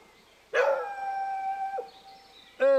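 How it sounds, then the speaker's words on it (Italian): A dog howls outdoors near a horse pasture, one long sustained wavering howl close by, then a second rising howl begins at the end, with nothing else audible. "Guarda sto qua come ulula."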